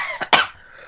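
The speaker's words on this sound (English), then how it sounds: "I actually had to cough." A person coughs twice in quick succession, close to the microphone: a short, soft burst followed by a louder, harsher one.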